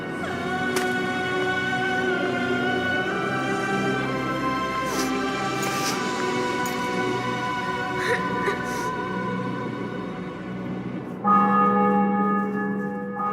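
Church bells ring through a medieval fortress city in The Witcher 2 video game, a steady layered peal of sustained metallic tones filling the scene, swelling louder near the end.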